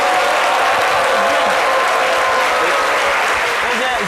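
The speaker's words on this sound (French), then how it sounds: "Des applaudissements pour mon cher pote." Applause for a guest on a French midday talk show, a dense steady wash of clapping holding at full level throughout, with crowd noise and voices mixed underneath.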